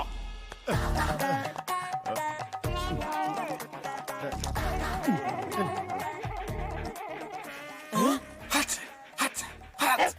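Dog-like barking and whimpering in a Malayalam film scene, most likely a voice imitating a dog: loud, close yelps and whines in bursts, with music and shouting around them.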